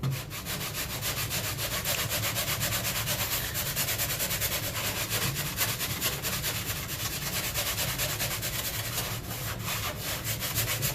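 Steady, continuous hand sanding of a drywall patch with a dry, rasping scrape that keeps a constant rhythm, close and fairly loud, with no talking.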